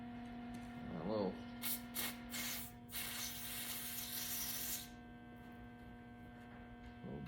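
Brake cleaner is sprayed onto wire-brushed parts of a 1965 Cadillac hearse in a series of loud hissing aerosol bursts over a constant electrical hum, with brief voice sounds at the start and end.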